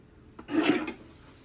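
A paper trimmer makes one quick, close rasping slice as its blade runs across a sheet of scrapbooking paper, lasting about half a second.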